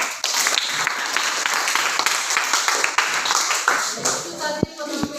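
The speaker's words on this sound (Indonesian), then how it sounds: "berikan tepuk tangan kepada kelompok 2" A classroom of students claps for a student group after its presentation during a teaching practice session, a brisk, fairly close patter of many hands that runs steadily before thinning into a few sharp final claps.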